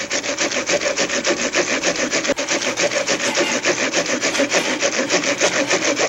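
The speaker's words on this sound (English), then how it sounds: "Time to grate the cheese. We're using provolone because this is a Philly cheesesteak pizza." Provolone cheese is grated by hand for a Philly cheesesteak pizza, making a steady run of quick rasping strokes, close and fairly loud, with no talking.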